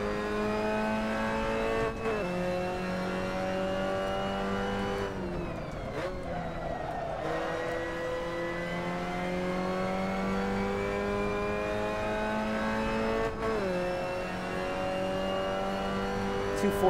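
Mazda MX-5 race car engine in a sim racing game, a steady loud drone with rising and falling pitch through gear shifts, brief dips at lifts and downshifts, continuous throughout with no talk.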